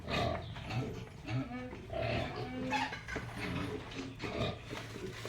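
Piglets on a farm grunt and squeal almost continuously, close by. Overlapping snorts and short squeals rise and fall in a busy, messy chorus.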